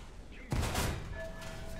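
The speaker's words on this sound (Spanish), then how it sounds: "está desde el spawn disparando el M44 ese" A single heavy boom from an M44 firing from spawn in War Thunder, sudden and loud, then a decaying rumble with faint game tones.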